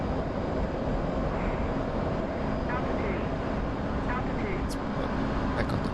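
F/A-18 jet engine in the DCS flight simulator, a broad, steady roar with a whining edge, held continuously at moderate loudness.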